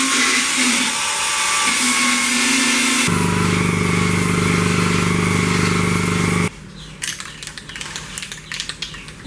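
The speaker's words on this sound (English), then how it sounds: "I gotta grind the top of it down." A grinder cuts down a weld on a Dodge car door at close range with a loud, sustained whine that shifts pitch partway through. It then gives way to intermittent, lighter grinding contacts.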